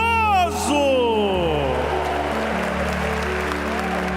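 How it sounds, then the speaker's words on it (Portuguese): A church congregation at a Catholic service breaks into applause after a short sung or spoken voice, a dense, sustained wash of clapping that fills the room. "Uma salva de palmas a Jesus misericordioso."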